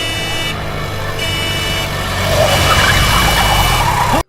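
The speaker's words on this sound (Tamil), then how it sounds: "அந்த நேரத்துல ஒரு லாரி ஹார்ன் அடிச்சுக்கிட்டே வருது." A lorry bears down in a movie street scene, its engine drone loud and steady, then swelling closer for the last couple of seconds before cutting off abruptly.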